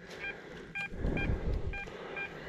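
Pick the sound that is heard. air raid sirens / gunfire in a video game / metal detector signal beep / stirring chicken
metal detector signal beep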